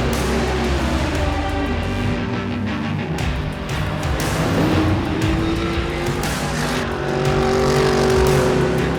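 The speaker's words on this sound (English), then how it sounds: "Now they accelerate towards turn 1 and all spread out and fan out." A pack of race cars roars away from the start of a championship-deciding race, engines at full throttle toward turn 1, a dense continuous rising snarl of many cars accelerating close by.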